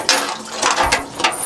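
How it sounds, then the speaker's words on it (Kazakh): A winch drawing water from a village well: a ratcheting, clanking mechanism turns in short repeated bursts, close and fairly loud, with no talk. "Бірінші мәрте құдықтан су алып көріп атпан."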